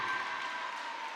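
Crowd and bench cheering in a gym after a big kill at a women's college volleyball match, a steady broad roar of voices and clapping that holds for the whole moment.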